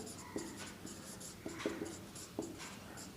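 Someone writes by hand with a pen or chalk in short, light scratchy strokes, several quick bursts with brief pauses between them, close and fairly quiet.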